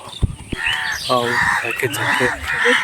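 A crow caws several times nearby during an early-morning walk through village greenery, the harsh calls overlapping with a person talking.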